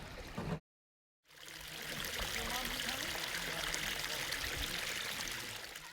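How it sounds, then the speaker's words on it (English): Water rushes steadily through a small waterfall river passage on a Pilbara road trip, a continuous close splashing flow heard alone after a brief dropout near the start. "This is a cool mini waterfall river water passage type of thing."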